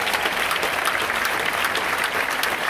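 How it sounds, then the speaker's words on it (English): A dense, sustained round of applause from the crowd at Philadelphia's 2024 mayoral inauguration greets Congressman Dwight Evans, loud and even throughout with no break. "He is now our Congressman, Dwight Evans. Give him a huge round of applause."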